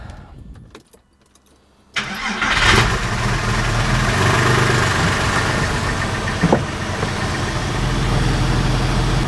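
A Porsche 996/986 flat-six cranks and fires after a quiet moment, then settles into a steady, loud idle running close by for several seconds, with no one talking.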